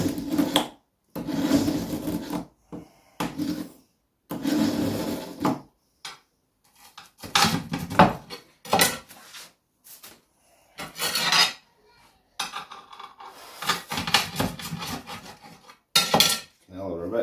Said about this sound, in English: Cut these up, chop them in there as well.